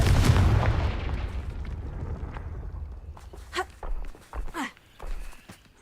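A Confringo fire spell in a video game blasts with a heavy booming explosion that decays over a couple of seconds, followed by a few scattered thuds and footstep-like impacts.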